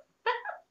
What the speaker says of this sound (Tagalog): I hear Cookie tahol doon sa labas.